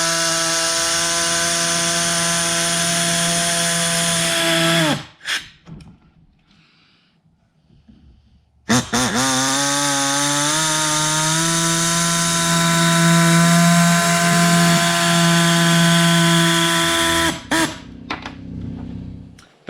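A power tool trims a plastic truck bed liner during a retractable tonneau cover install. It whines loudly for about five seconds, pauses, then runs again for a longer stretch before stopping, with no talking.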